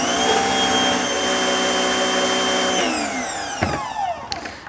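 A GreenWorks electric pressure washer running at 1500 PSI gives a loud, steady motor whine that drops away near the end, leaving brief clicks and spray hiss.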